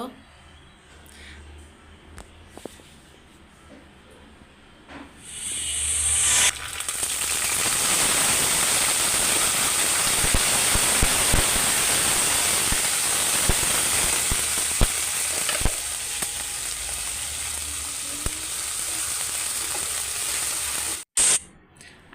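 After a quiet start, cumin seeds and chopped onion hit hot oil with a sudden loud hiss, then sizzle and crackle steadily and close up for a long stretch.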